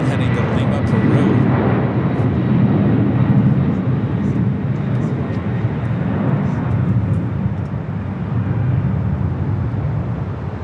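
A Boeing 767 takes off at LAX, producing a loud, sustained, low engine roar that holds steady throughout while a voice talks over it.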